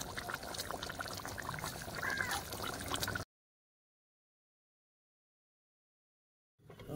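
Raw mustard oil trickles from a container into a simmering pabda fish curry with mustard-poppy paste, a steady close pour for about three seconds, then a gap of silence before faint kitchen sound resumes.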